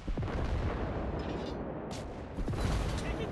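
Warship guns boom in World of Warships Blitz, heavy rumbling naval salvos in a dense, continuous barrage with loud blasts layered over one another and no voices.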